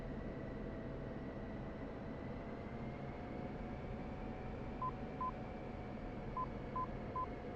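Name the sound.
inner marker beacon tone on F-16 approach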